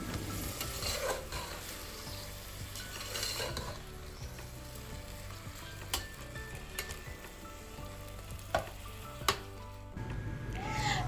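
Rice frying in a pan for vegetable pulao, with a steady sizzle under repeated scraping and stirring strokes and a few sharper clacks of the spoon against the pan, close and continuous.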